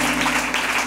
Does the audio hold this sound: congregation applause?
yes